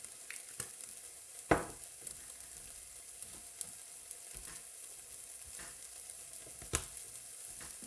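Onions frying in a pan for chilli con carne, a soft steady sizzle with a few sharp scrapes and clacks as they are stirred, faint and close with no speech.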